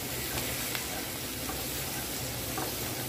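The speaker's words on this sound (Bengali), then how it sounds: "দিলাম কিছু চিংড়ি, আমাদের যে দেশি চিংড়িটা পাওয়া যায় সেই চিংড়ি দিয়ে দিলাম পরিমাণ মতো, মানে একটুখানি পেঁয়াজ, দেওয়ার পরে খুব ভালো করে একটু ভেজে নিচ্ছি" Local shrimp with onion and a little turmeric fry in a pan, a loud, dense, continuous sizzle with scattered crackles and occasional stirring scrapes, close up and without talk.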